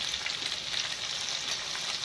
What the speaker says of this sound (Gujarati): એટલે તેલમાં મસાલો પીરેલો ખાવો હોય ને તો ફોલાય ફોલાય રીંગણા ફેરવા પડે.